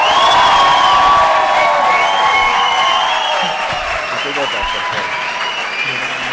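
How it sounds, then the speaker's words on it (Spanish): An audience at a roast battle comedy show breaks into loud applause with cheering and whoops. The clapping is dense and sustained, fading slightly toward the end, with shouting voices mixed in. "Un fuerte aplauso, fuerte ruido para quien crea que haya ganado esta batalla."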